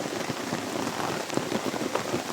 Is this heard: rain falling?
yes